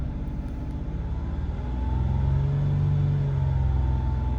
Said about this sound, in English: Let's rev her to 2500.